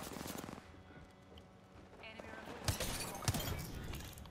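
Gunshots in the video game Apex Legends come as a few punchy shots later on, over a busy game soundscape, while a voice talks at times.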